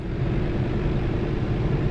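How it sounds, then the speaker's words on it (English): Truck engine in a truck simulator game driving through Norway, a steady low rumbling drone heard alone, even and continuous. "This engine sounds nice."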